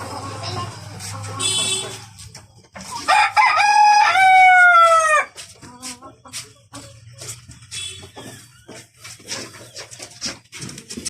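A rooster crows loudly and close, a long rising-and-falling call, with hens clucking and chattering around it in a busy fancy-chicken farm yard.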